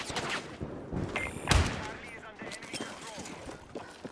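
Guns rattle in Battlefield in a quick cluster of shots with one heavier blast near the middle. The gunfire sits moderately loud beneath someone talking over it.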